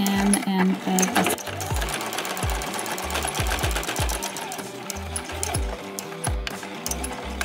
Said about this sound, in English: I'm gonna sew them with a 1/2 inch seam allowance